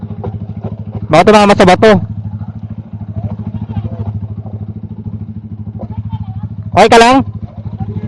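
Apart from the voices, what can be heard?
motorcycle riding down a steep rocky path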